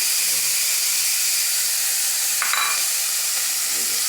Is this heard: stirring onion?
yes